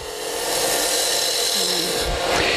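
A woodturning gouge cuts a cove into spinning wood on a lathe, a steady close scraping rasp that holds evenly throughout with no voices.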